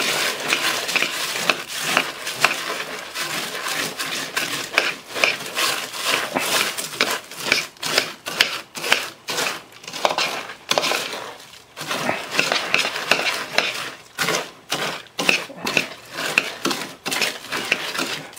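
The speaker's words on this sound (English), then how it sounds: "all I'm doing is just stirring it up till I've got it mixed well" Cornflakes are stirred in a bowl to coat them, producing a continuous close crunching and scraping with rhythmic clinks of the spoon against the bowl, no voices.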